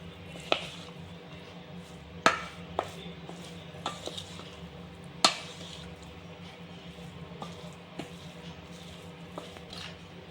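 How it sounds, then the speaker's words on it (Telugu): Pulihora tamarind rice being stirred and mixed in a pot, soft continuous scraping with a handful of sharp clinks of a spoon against the vessel, fairly quiet and close. "దీన్ని వేసి బాగా కలిపేయాలి"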